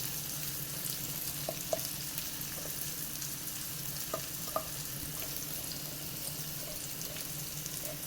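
Onions sautéing in a pan with turmeric and asafoetida, a soft continuous sizzle with a few light clicks and stirring scrapes, quiet and close.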